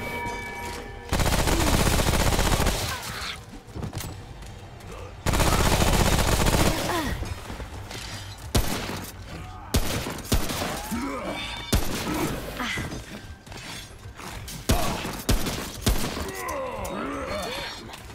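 Rifle gunfire in the video game Remnant: From the Ashes, with two long loud bursts of sustained automatic fire and then intermittent shots and impacts amid game effects, while someone talks at times.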